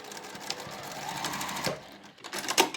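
A sewing machine stitches a ribbon onto the right edge of a fabric panel for a slim zippered pencil case, running in steady close bursts with a brief pause before a final quick run.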